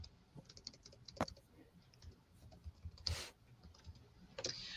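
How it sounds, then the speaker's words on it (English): Computer keyboard typing while a calendar page is written up, a few scattered key clicks and taps spread unevenly, with quiet room noise between them and no talk. "I'm typing up the calendar."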